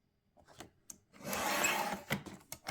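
Scissors cut a one-inch strip from a sheet of 12x12 scrapbook paper in one sustained close rasping snip of about a second, set among a few faint handling clicks and taps.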